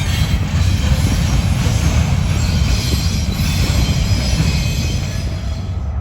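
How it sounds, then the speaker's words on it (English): A heavy Norfolk Southern freight train rumbles past at close range in Decatur, Alabama, a steady low roar with faint wheel squeal and rattling cars, easing slightly toward the end. "as soon as the Norfolk Southern train cleared"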